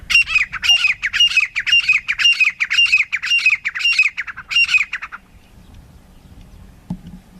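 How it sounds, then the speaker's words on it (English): A loud, repeated bird call: a grey francolin's harsh, rhythmic squawks in rapid succession for about five seconds, then quiet with faint background noise. "the gray francolin, which is known for its loud call"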